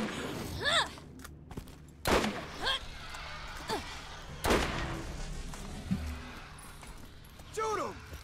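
Gunfire from the video game Borderlands: sharp, loud shots and thuds spaced irregularly, with bursts of creature or effect noises between them and someone talking underneath.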